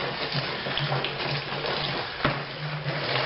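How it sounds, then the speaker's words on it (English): IPA beer wort pours and splashes steadily into a fermenter for aeration, a continuous gushing hiss with a low hum underneath. "we'll give this some splashing while we go and get some air in there."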